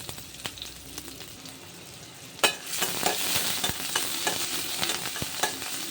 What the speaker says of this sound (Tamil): வெங்காயம் லைட்டாக வதங்கினா போதும், ஓரளவுக்கு வதங்கினாவே போதும்.